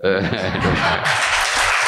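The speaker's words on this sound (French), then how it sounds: "On vous applaudit." An audience at a televised French political discussion breaks into applause, a dense, loud patter of clapping that takes over after a second of talking.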